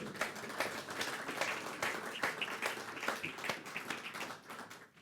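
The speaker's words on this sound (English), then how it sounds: "please give a round of applause" A crowd claps at the ribbon-cutting for a new county Health and Human Services building, a steady, fairly distant round of applause that thins out toward the end.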